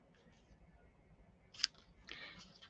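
Scissors cutting card material for a handmade Christmas card, a quiet snip followed by a longer rasping cut, close and faint against a hushed room.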